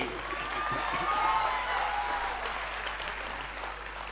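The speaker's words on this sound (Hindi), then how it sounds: "ताली बजाइए।" Steady applause from an audience at a Hindi comedy poetry gathering, a hasya kavi sammelan, dense and sustained at moderate level with no speech over it.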